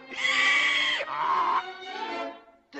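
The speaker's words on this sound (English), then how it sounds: "Hey, you laugh like a donkey." A cartoon character in Pinocchio lets out a braying, donkey-like laugh, loud bleating cries in a few bursts, heard alone without talk.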